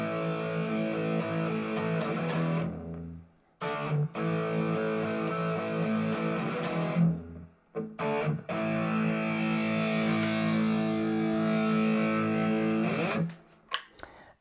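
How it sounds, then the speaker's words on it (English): A PRS SE Semi-Hollow electric guitar plays heavy distorted chords through a Positive Grid Spark 2 amp on a heavy preset, loud sustained riffs broken by a few brief pauses, with no voices. "I basically just use the presets on the amp here in order to select what I want to play. It does really, really well at like the heavier tones."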